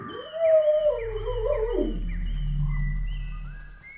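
A pet dog howls in a long, rising and falling wail close by, holding on for several seconds with a low steady hum underneath, heard alone without talk.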